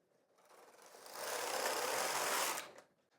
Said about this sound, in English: now knit the final zigzag to finish the cast on